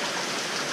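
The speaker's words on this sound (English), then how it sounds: "I was trying to beat the rain." Steady rain during Hurricane Harvey in Houston, Texas, a dense, even hiss of drops pouring down without pause, close and uninterrupted, with no voices.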